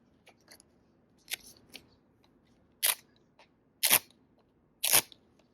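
A dust-removal sticker is peeled away during a Google Pixel 9 screen protector install, making sharp, close crackling rips in short bursts, three louder ones near the end, against a quiet room.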